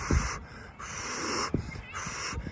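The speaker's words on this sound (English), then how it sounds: "I'd actually be blowing air out" A runner blows air out forcefully after hard running reps at a very high heart rate: three long, breathy, hissing exhales in a steady rhythm, close and loud.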